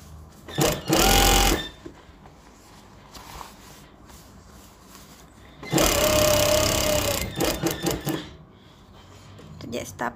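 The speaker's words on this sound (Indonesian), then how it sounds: "Kita jahit setapak dulu." Sewing machine stitching folded batik fabric, running in two loud bursts of steady motor whirring and needle clatter, each about two seconds long, with quieter handling noise and brief clicks between them.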